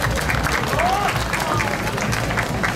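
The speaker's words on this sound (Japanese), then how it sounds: "皆さん大きな拍手お願いします。" Crowd applause at the Saijo sake festival in Hiroshima, a continuous wash of many people clapping outdoors, steady and moderately loud with faint voices mixed in.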